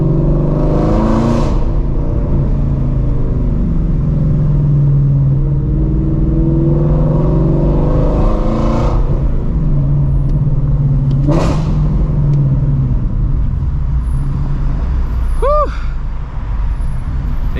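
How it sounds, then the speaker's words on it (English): Straight-piped Shelby GT350 exhaust driving downtown in a city, a loud continuous deep rumble with swelling revs echoing off surroundings, steady throughout with no talk. "I forgot how nasty this car sounds downtown"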